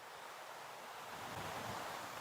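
A stiff headwind buffets the microphone outdoors at a disc golf throw, producing a steady, faint, broad rushing roar that swells slightly toward the end, with no voices.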